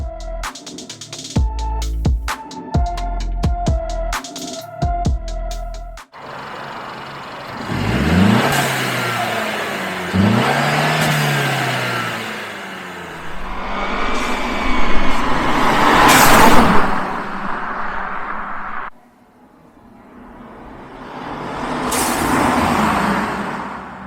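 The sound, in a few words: Mercedes C300 W with blow-off valve driving by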